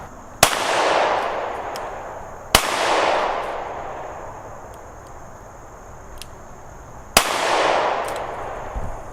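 A Smith & Wesson M&P Shield X pistol fires three sharp, loud shots at uneven intervals, each with a short fading echo and quiet pauses between.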